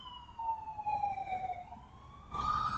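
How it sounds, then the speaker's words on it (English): A wailing emergency siren sweeps up and down as it passes nearby, fairly loud, with a sharper rise in pitch near the end. "Let's let the siren go by."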